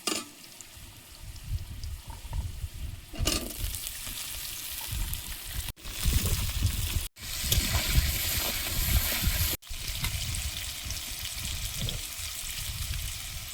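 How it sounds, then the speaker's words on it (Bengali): Potatoes sizzling in a pan as Malabar spinach is added on a home stove, a steady soft frying hiss with stirring scrapes and a few sharp breaks in the sound. "আলুগুলো একটু টাইম ভেজে নিয়েছি আগে, এবার পুঁই শাক দিয়ে আর একটু ভাজবো।"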